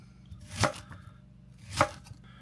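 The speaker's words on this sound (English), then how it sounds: "it is a gorgeous onion. And we're just gonna rough cut these up" Two distinct knife chops strike a board about a second apart as onions are roughly cut, each thud crisp and close, separated by quiet.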